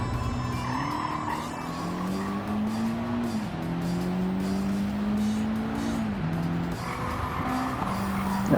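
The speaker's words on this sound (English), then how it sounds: "So now I just drive to victory at the end of the day, because this car is fast with the racing hard tires at least." Race car in Gran Turismo 7 on racing hard tires, engine droning steadily and shifting pitch through gear changes while tires squeal continuously through corners, loud and close with no talking.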